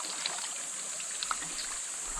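Large river flowing in the countryside of Sitio Bayabas, Tagkawayan, Quezon Province, heard as a faint, steady wash of moving water with a few soft splashes and no talking.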